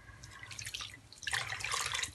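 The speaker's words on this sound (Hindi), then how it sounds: "2 कप ही पानी डालेंगे" Water poured into two cups of sugar in a pan for a Shahi Tukray dessert syrup, a soft trickling splash that swells louder and fuller partway through, close by with no talk.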